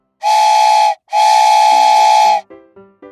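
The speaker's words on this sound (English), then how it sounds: "This is the train sound." Two long, loud steam train whistle blasts, followed by a few shorter, lower chuffing hoots.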